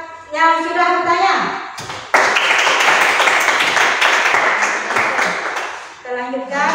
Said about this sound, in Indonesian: Tepuk tangan buat yang sudah bertanya.